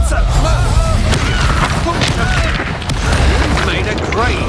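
An Expulso blast spell explodes in Hogwarts Legacy gameplay, loud booming bursts layered with rapid crackling magic effects and a character shouting over the din.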